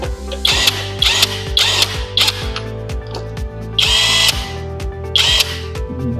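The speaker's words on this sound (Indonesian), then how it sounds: "kalau jika pengen cepet menggunakan impact" An impact wrench loosens automatic transmission bolts in a workshop, firing six loud, separate bursts of rattling hammering over a steady low mechanical hum.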